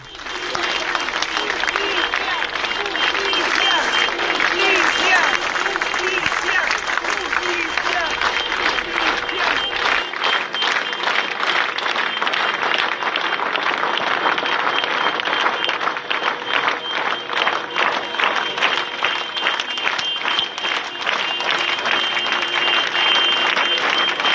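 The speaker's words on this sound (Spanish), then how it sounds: "Estuvieron 12 minutos aplaudiendo y tocando bocina frente a la comisaría" A crowd claps steadily and hard outside a police station while car horns sound among the applause, a dense, loud, continuous roar of clapping with honks held throughout.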